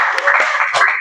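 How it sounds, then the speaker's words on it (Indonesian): A school class applauding together, a brief burst of dense clapping from many children, fairly loud and close, with a few voices mixed in. "tepuk tangan untuk kita semua, luar biasa."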